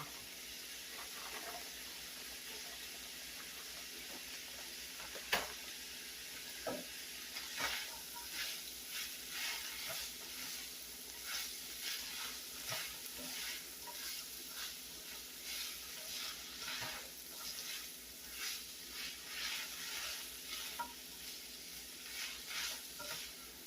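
Peppers and onions sizzle in a skillet for a stuffed peppers casserole, a soft continuous frying hiss with frequent stirring scrapes and pops, fairly quiet and close, no talking.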